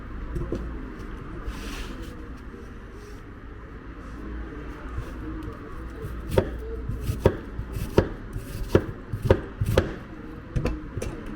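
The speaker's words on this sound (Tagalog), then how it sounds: "Yan muna natin hiwain mga kabers, itong onion." A knife chops an onion on a cutting board for avocado salsa. Soft at first, it becomes a run of sharp, regular close-up chops in the second half.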